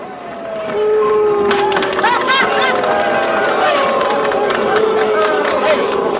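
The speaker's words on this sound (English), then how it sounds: "What are you applauding for?" A crowd at a baseball game in a 1942 film applauds and murmurs, a steady roar of clapping and babble with shouting voices rising over it and someone speaking.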